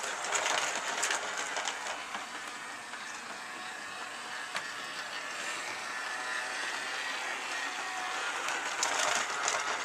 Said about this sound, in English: Your train's coming.